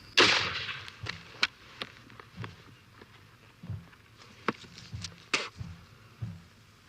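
Muskets fired by Civil War re-enactors at Gettysburg crack out as a sharp opening volley, followed by scattered, irregular single reports and thuds over the next several seconds, moderately distant and without talk.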